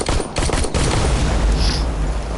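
Pistol shots in the video game Terminator Resistance: a quick run of sharp, close cracks in the first moment, followed by a loud, rumbling wash of gunfire and game noise, with no speech.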